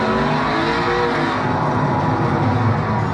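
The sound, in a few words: Toyota GT86 / Subaru BRZ boxer engine race car passing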